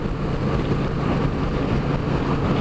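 Wind rushes past while riding a Triumph Street Cup motorcycle, a loud, constant buffeting roar with no voices heard.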